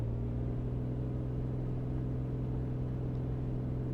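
A steady, droning propeller plane engine roar at full throttle in Microsoft Flight Simulator 2020, holding one constant pitch throughout, loud and unbroken.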